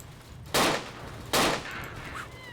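In the Dino D-Day video game, a mounted machine gun fires two short, loud bursts about a second apart, heard up close over faint background game noise.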